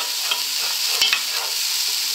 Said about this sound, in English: first thing that's gone in the pan is the onions. We're going to fry them for